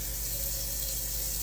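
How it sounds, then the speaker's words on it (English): Water running from a kitchen tap into a cooking pot, a steady close rushing hiss, continuous and unbroken, with no voices. "I'm just gonna fill my pot with water"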